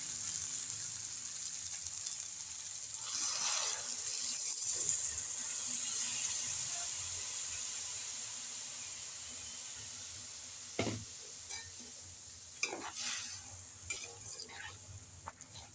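Tamarind gravy simmers and reduces in a pan, a soft continuous bubbling sizzle in a home kitchen, with a few sharp clinks and scrapes of a utensil against the pan toward the end.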